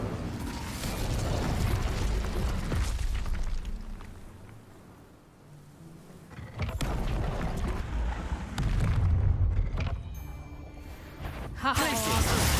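Blasting-spell explosions go off in Hogwarts Legacy, with several booming bursts and crackling impacts scattered through a busy stretch of combat noise. A brief quieter dip comes midway, and talk is heard alongside.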